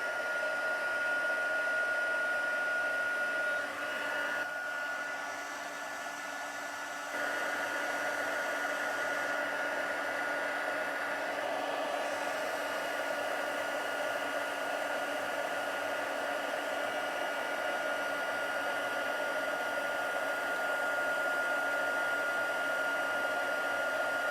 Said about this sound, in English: I'm just going to heat emboss that with my heat tool